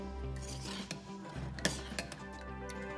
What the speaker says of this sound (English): And now I'm going to give it a nice mix.